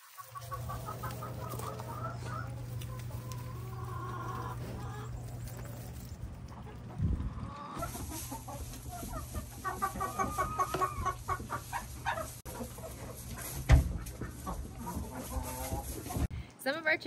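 Homestead hens cluck and squawk in a steady, busy chorus under a constant low hum, with a few sharper calls standing out near the end.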